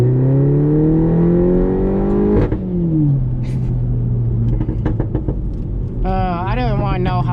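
A 2018 Mini Cooper S engine revs loudly and close up, rising in pitch through the gears with brief dips between shifts, while people talk over it.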